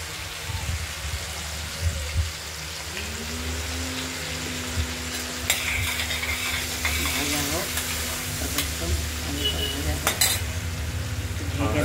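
Potatoes fry in a pan for a Bengali potato and paneer fritter curry, a steady close sizzle running throughout, with stirring scrapes and light utensil clinks now and then.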